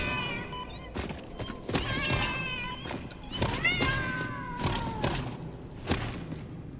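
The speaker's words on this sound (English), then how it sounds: "I'm pretty sure that's a cat." Cat meowing in the factory-building video game Satisfactory, with several drawn-out meows in quick succession over a steady game background, loud and close, with a voice talking alongside.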